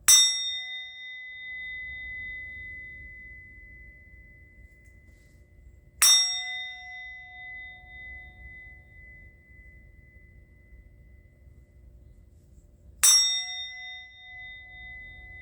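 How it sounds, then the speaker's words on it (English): A bell is struck three times at slow, even intervals, each bright metallic ding ringing out and decaying over a low ambient hum, with no voices. "I'm going to ring the bell."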